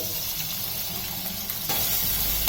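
Two medium finely chopped onions drop into hot oil for chicken kheema pattice, frying over medium heat. The result is a steady close sizzle that swells louder partway through, with a light scrape of stirring.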